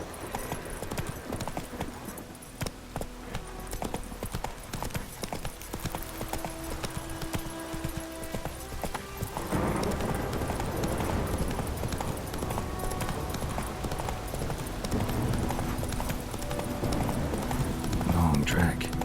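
Roach the horse gallops in The Witcher 3, with rapid, steady hoofbeats pounding over the ground throughout, a voice speaking over the hooves, and the game's background sounds underneath.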